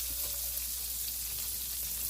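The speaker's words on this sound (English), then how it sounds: "I'm frying those, you can see, in some butter." Fish fillets fry skin side down in butter in a pan, a soft steady sizzle heard faintly and close, without any talk.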